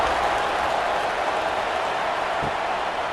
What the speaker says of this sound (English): Night games are always so loud, so obnoxious, and these fans, they get something to cheer about